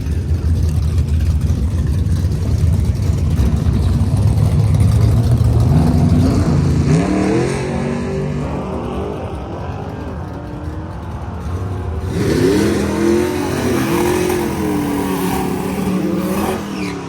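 A 1700 whp Nissan GT-R doing a burnout at a drag strip: a loud, close engine roar, steady at first, then two distinct rising revs with a rough, harsh tone.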